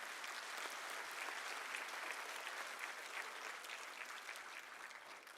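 A large audience at a University of South Africa autumn graduation ceremony claps in a steady, sustained wash of applause, even and fairly distant throughout, with no voices standing out.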